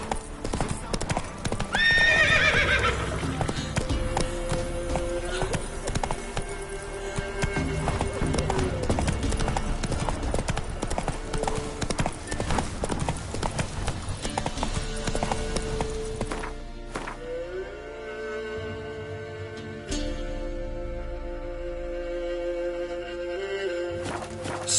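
A horse in The Witcher 3 trots along with steady clip-clop hooves, gives an early whinny and then slows to a halt, while someone speaks over parts of it.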